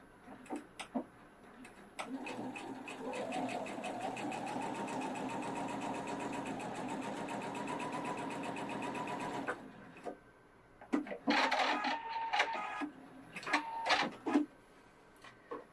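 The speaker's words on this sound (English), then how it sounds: "now I'm going to stitch over the same spot so you can see the difference" A Pfaff 710/720 sewing machine stitches a continuous run for about seven seconds at a steady pace, then stops, followed by intermittent clicks and mechanical handling noises.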